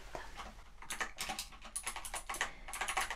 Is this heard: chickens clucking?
no